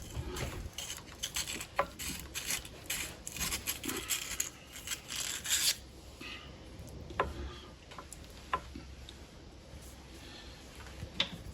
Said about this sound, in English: I'm using a fine sandpaper. I believe this is like a 320.